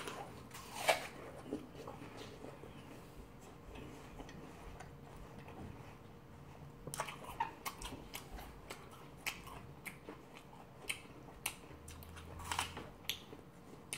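Someone bites into and chews a whole dessert apple, giving scattered crisp crunches and moist chewing clicks at close range against a quiet background, with a few louder bites standing out.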